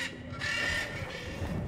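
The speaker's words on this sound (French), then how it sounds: "Le corbeau qui se tape une barre." A crow caws in the video game Dante's Inferno, a single harsh call rising briefly over a steady layer of game ambience and music.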